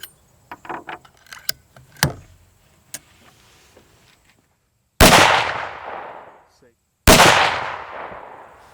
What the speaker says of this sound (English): Let's see how well the Encore shoots.